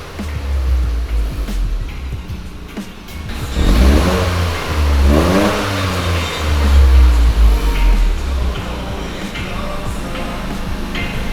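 Stock exhaust on a Toyota GR Corolla with the valves open in track mode, revved repeatedly in loud rising and falling sweeps, heard up close with no talk.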